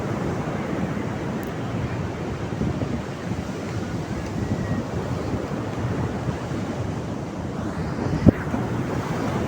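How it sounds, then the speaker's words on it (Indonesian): Continuous roar of surf at Pantai Apra beach in south Cianjur, with wind buffeting the microphone. The washing waves hold a broad, steady wash broken by one sharp knock near the end. "Ombak besarnya kadang-kadang indah kok teman-teman kalau dilihatin di video kan, gimana derunya."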